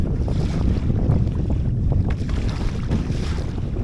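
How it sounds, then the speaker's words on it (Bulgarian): Waves slap against the bow of a kayak on shallow water during a spring fishing trip, with steady wind buffeting the microphone and dense, continuous low splashing throughout. "Почне ли е така да пляска вълни по носа на каяка"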